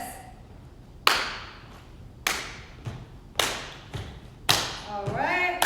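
Aerobics class doing a side step, clap, step back routine: four sharp claps and thuds land roughly a second apart, fairly close, with a quiet voice murmuring between them.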